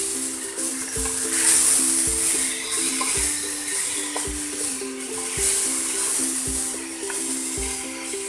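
Mutton sizzles steadily in a hot pan for a Mughlai korma, a continuous close frying hiss broken by regular scraping clinks of a stirring spoon roughly every second, with no talk.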